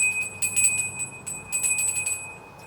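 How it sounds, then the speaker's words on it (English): A small bell rung by hand indoors, several quick bursts of bright, sustained metallic ringing in clusters, clear and close, with no talking. "Ring the bell."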